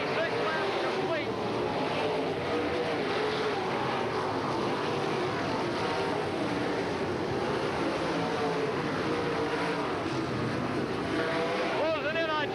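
Sprint cars from the 1987 World of Outlaws race at Hales Corners roar around the dirt oval in a continuous, dense engine drone, with a commentator talking over the steady racing noise throughout.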